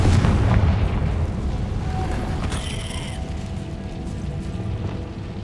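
In the Hogwarts Legacy video game, a Confringo blasting spell detonates with a low, rumbling explosion that decays over several seconds, followed by a brief bright metallic ring amid continuing game ambience.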